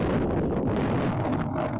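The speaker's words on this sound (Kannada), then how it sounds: "ಡೇಂಜರ್ ಗಾಳಿ." Strong wind blasts across the microphone on Shivagange hill, a loud, steady buffeting roar that stays close and continuous with no voices.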